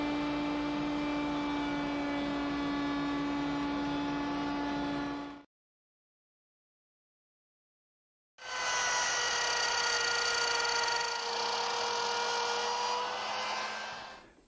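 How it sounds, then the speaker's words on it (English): Set 1/4 inch high in a router table, a 3/4 inch router bit cuts a 1/4 inch rabbet in wood for a small jewelry chest. The steady high-pitched whine runs for two loud passes separated by a few seconds of silence, with no talking. "I've installed a 3/4 inch router bit in my router table, raised it up 1/4 inch"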